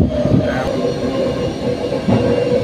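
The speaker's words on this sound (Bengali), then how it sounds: "ট্রেন চেঞ্জ করে আজকে আমোদপুরে এই ট্রেনে উঠেছি।" A passenger train running on rails between Katwa and Amodpur, heard from inside a carriage as a loud, steady rumble with rhythmic rattling and a couple of heavier jolts, with no speech.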